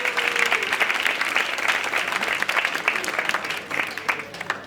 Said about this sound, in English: I want everybody to give yourself a round of applause